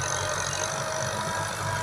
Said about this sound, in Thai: รถไถมาปั่นแล้ว